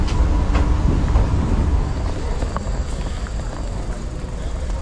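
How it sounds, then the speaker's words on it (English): Low rumbling of a train arriving at platform 31 of a busy station in Sion, Switzerland, with the rolling drone of rail cars and scattered background chatter and clatter nearby. "Train seems to be on time."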